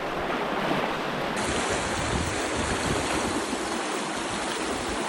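Rushing river water surging around legs while someone wades across almost knee deep, a loud, continuous broadband wash close to the microphone with wind buffeting, no talking.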